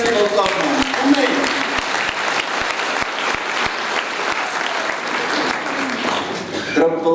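A church congregation claps in a steady, fairly rhythmic beat, loud and close, with voices and a preacher's speech mixed in over the clapping throughout.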